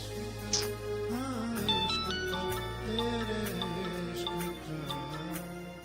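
A melodic phone ringtone plays a repeating electronic tune of bright tones, steady and fairly close.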